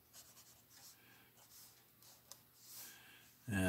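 Pencil scratches faintly on paper while sketching a bee on a basil stalk, soft intermittent strokes close by, ending in a sudden louder rustle.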